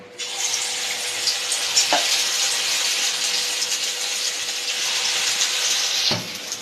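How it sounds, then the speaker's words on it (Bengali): Lentil fritters (bora) frying in hot oil in a wok make a loud, continuous bubbling sizzle up close, broken by a couple of brief clunks as pieces are added or moved, with no speech. "এবার এক এক করে আস্তে আস্তে করে বড়াগুলো আমি ভেজে নেব"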